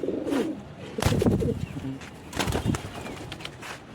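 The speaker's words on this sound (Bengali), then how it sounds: "জ্বালালি কবুতরটাও বার হয়ে গেছে" Jalali pigeons coo in a low, throaty, repeated rhythm at close range in a loft, with several overlapping calls and a few louder bursts, no talk.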